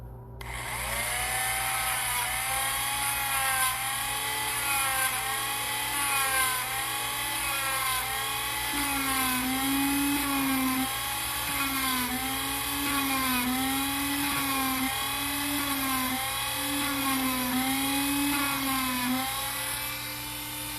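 A power sander grinds a silver ring made from an 1820 half dollar coin in a steady, loud, continuous whine with a wavering pitch that rises and falls in a slow cycle, with no talking.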